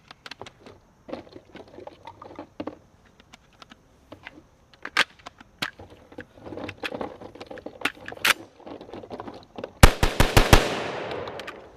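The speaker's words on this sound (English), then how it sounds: "The shotgun shells we're shooting this afternoon are Estate brand shotgun shells." A 12 gauge shotgun firing Estate brand shells outdoors in the afternoon, several sharp loud blasts in quick succession near the end, after scattered clicks and handling noises.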